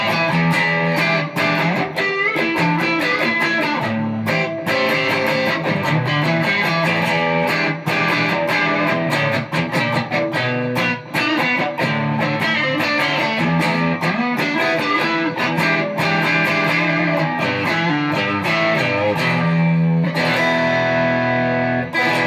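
Vintage-style Stratocaster with single-coil pickups played through a TC Electronic Dark Matter Distortion pedal, giving a steady run of loud, continuous overdriven chords and riffs with sharp picked attacks and a faint background hum, no voices.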